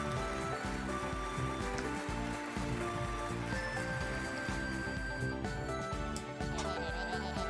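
Steady rain falls in the video game Cursed to Golf, a dense continuous hiss that fills the clip at an even level under a busy layer of game music.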